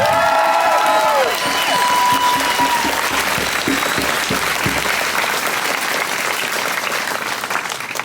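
At a Trans Justice Canberra event, the audience claps for a speaker named Izzy, sustained full applause for about eight seconds with some cheering voices near the start, tapering slightly at the end.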